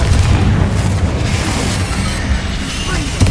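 Magical blasting spells from the video game Hogwarts Legacy go off as a rapid series of deep booms and bursts, loud and overlapping across the short stretch.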